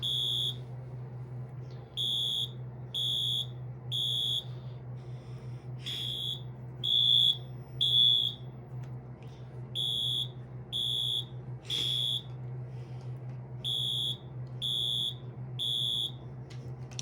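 A wired fire alarm sounds after being plugged into power, giving loud, regular electronic beeps in groups of three or four with short pauses between them. A low steady hum runs underneath, and nobody speaks.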